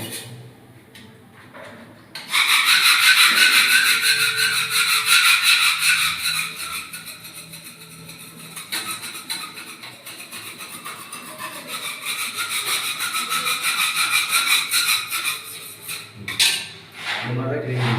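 Hard scrubbing against heavy salt stain deposits, a loud continuous rasping scrape close by that runs for most of the stretch after a quiet start, easing slightly midway before building again, with brief knocks near the end.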